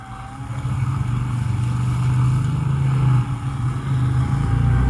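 A DIY-driven three-phase BLDC motor turns at low RPM, giving a steady low-pitched hum with a faint whine above it, continuous and fairly loud throughout with one brief dip.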